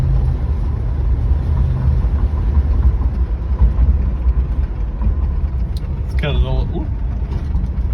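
A 1972 Plymouth Satellite car drives along with a steady low engine and road rumble throughout, near and fairly loud, with a brief higher squeal or whine passing partway through.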